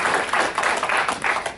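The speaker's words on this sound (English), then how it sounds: "So warm round of applause for Dr." A lecture audience gives a warm round of applause: a steady, dense patter of many hands clapping, near and fairly loud, lasting under two seconds.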